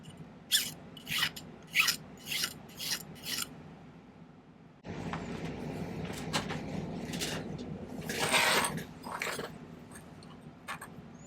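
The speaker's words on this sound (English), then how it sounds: "now I'm going to do a little creative filing. We'll try to get this to shape" Silver pendant being shaped with a hand file: a run of six quick rasping strokes, a brief pause, then a steadier, denser scraping passage with louder bursts near the end, close and clear with no talking.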